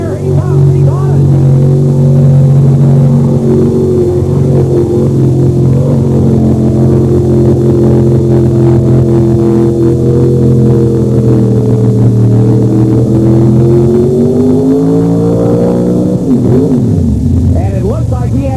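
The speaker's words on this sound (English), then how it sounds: "that engine was really screaming and the tires weren't going around near the end of the run" A 4x4 mud truck at the 1989 Bloomsburg 4 Wheel Jamboree screams at high, wavering revs through a mud run with apparent transmission trouble, loud and continuous before the pitch swoops down at the end, with a commentator talking over it.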